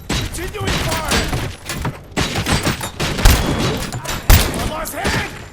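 Heavy gunfire in the video game RoboCop: Rogue City, dense volleys with thuds and booms, loud and continuous, with voices shouting over the shooting.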